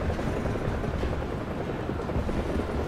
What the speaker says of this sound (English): It's a chopper.